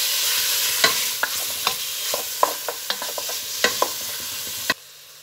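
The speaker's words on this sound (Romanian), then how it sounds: "după care adăugăm și ceapa să se călească împreună." Pork and onion sauté in a pan for goulash, a steady sizzle under repeated sharp clinks and scrapes of a utensil stirring, close and moderately loud, then cutting off abruptly near the end.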